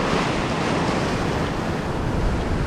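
Sea waves surge in against a rocky shoreline, a steady loud rushing wash with wind buffeting the microphone and no pauses.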